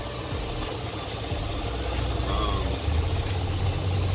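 A Chevy Silverado truck engine idles with a rough, uneven rumble, a slight irregular stutter from a misfire in its rhythm, steady and fairly close.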